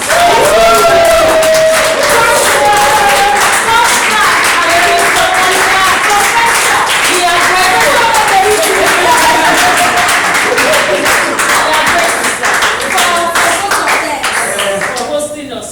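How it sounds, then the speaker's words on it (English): A standing ovation from an audience at a motivational talk, dense loud clapping and crowd noise sustained throughout with some cheering, and a voice speaking over it. "a standing round of applause for our Oza on the top"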